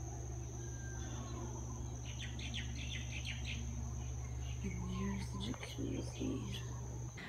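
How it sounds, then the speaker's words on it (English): Birds sing with bright, repeated chirps and trills at the start of the Kalalau trail on Kauai, mid-distance over a steady insect-like buzz and outdoor hum, with voices talking faintly underneath. "Do you hear the birds?"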